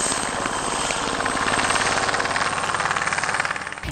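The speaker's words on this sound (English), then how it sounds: "The Italian designed and manufactured Farmer K209 helicopter has arrived in the African skies." An Italian-made, mainly carbon-fibre Farmer K209 light training helicopter flies close and loud, its rotor chopping in a steady rapid pulse over a constant engine whine, with no voices.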